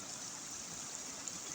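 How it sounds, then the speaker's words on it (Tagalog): Floodwater overflowing a river spillway makes a steady, even rush of water throughout, with no talking. "Umapaw yung tubig."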